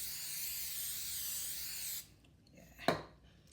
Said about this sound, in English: Yes, I spray my parchment paper.